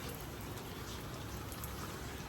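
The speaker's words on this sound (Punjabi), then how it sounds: "ਮੀਂਹ ਬਹੁਤ ਤੇਜ਼ ਪੈ ਰਿਹਾ ਬਾਹਰ" Heavy rain pours steadily, a dense, constant hiss of drops drumming on surfaces with no pauses or voices.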